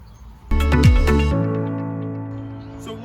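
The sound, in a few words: measuring device beeping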